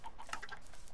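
Minecraft chickens cluck in a few quick, faint, soft notes packed into a single second, with no talking.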